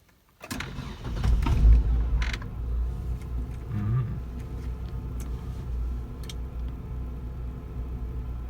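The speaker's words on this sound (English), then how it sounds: "I'm going to start the car up right now." A Hyundai Sonata with 411,000 km cranks with a creaking, whirring starter and catches, then settles into a steady low idle close by, with no talking.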